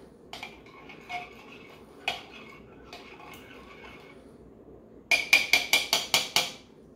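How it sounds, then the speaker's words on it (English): A spoon stirs a yeast mixture for focaccia dough in a bowl. It gives a few scattered clinks, then a quick run of about six sharp taps against the bowl near the end. "Give that a little stir."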